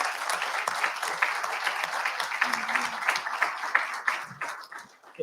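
Sustained applause from an audience at a cybersecurity panel event, many hands clapping steadily for several seconds before tapering off at the end.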